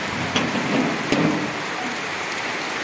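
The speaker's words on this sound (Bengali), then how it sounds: "এত বৃষ্টি" Heavy rain pours steadily outdoors onto pigeons let out to bathe, a dense, even hiss of close downpour with a couple of slightly louder splashes.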